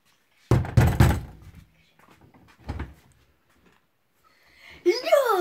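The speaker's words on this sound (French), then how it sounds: "On va toquer la porte." Knocking on a door in a video game: a few heavy, muffled thuds up front, then a fainter knock, with someone talking over them and a voice rising at the end.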